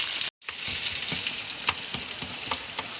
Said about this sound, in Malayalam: എണ്ണ കാഞ്ഞ ഉള്ളി ഇടണം.